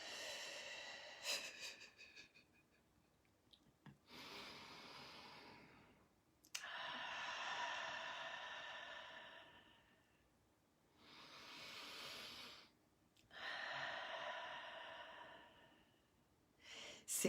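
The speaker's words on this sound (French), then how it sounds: "on va juste respirer un peu" Slow, deep breathing in a calm guided moment, long airy breaths drawn in and let out in several unhurried cycles, near and fairly soft with quiet pauses between them.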